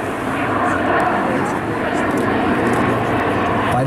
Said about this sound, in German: wie laut es tatsächlich wird mit den Triebwerken.